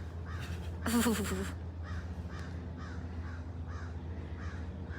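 Several crows caw repeatedly at a short distance at a big cat rescue sanctuary, harsh calls spaced through the clip, with a brief burst of voices near the start and steady background hum.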